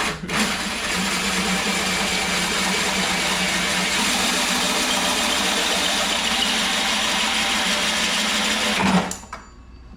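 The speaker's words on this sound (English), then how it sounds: "Now we got our first hole drilled." A power drill boring a hole in the front end of an NB Miata, a loud, steady whirring drone held for about nine seconds before cutting off abruptly, close by and alone.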